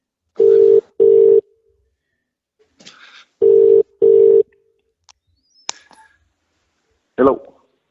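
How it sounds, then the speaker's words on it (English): A telephone call's ringback tone plays loud and clear as two double rings, each pair of tones followed by silence, with a few faint clicks and shuffling noises between and after them. "Oh, it's ringing."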